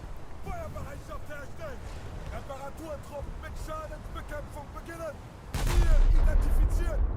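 Heavy naval gun salvo from the battleship Scharnhorst in World of Warships, a deep booming blast near the end over steady engine rumble and chirpy in-game effects, with someone talking.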